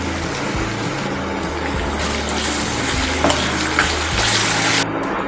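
Green chili, ginger and garlic paste with curry leaves sizzling in a pan for potato bhaji, a dense continuous frying hiss with occasional stirring scrapes and small crackles, close and fairly loud.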